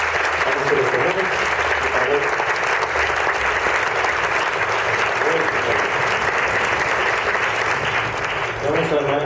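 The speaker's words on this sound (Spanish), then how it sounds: "Un aplauso, por favor." An audience at a children's and youth symphonic band concert applauds the oboe section teacher with sustained, dense clapping that stays loud and even for about nine seconds, with faint talk near the end.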